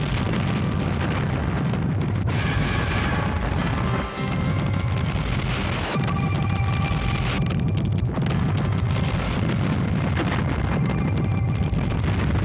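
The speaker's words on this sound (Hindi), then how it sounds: "विस्फोट के साथ पूरा ग्रह खत्म हो गया" A planet blown apart in a scene from the Hindi television series Shaktimaan: a sustained, loud, roaring explosion rumble fills the whole stretch, with brief dips and crackling bursts layered over the continuous low boom.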